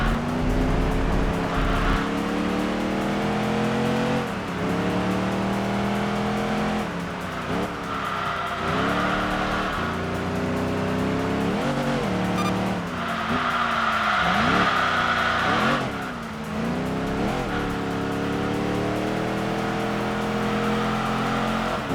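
Race cars in Enthusia Professional Racing, a driving video game, roar continuously with engine notes rising and falling through gear shifts, mixed with tire squeal and skidding, loud and steady throughout with no talk over it.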